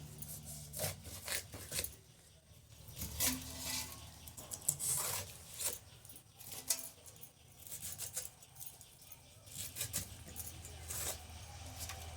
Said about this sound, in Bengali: এই আনারসটা কেমন কাটছি এবার আপনারা দেখুন